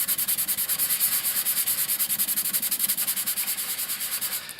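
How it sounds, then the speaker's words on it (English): A sanding stick of roughly 320 grit rubs putty on a resin model's seam in fast, steady back-and-forth strokes, a close, even scratchy rasp with no talking. "is just a sanding stick equivalent to probably like a 320."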